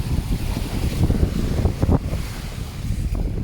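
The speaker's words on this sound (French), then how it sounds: "il y a le vent qui s'engouffre" Gusts of wind buffet a sailboat crossing the Gulf Stream off Miami, a loud, blustery roar with surging swells and rumbling pushes against the microphone, no one speaking.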